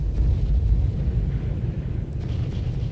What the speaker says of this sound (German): Oh mein Gott, mit der Explosion habe ich überhaupt nicht gerechnet.